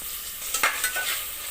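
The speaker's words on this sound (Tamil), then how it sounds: "இப்போ தக்காளி சேர்த்துடலாம்." Tomatoes tipped into a pan of frying onions with ginger-garlic paste, giving a short burst of sizzling and stirring, moderately loud with no voices.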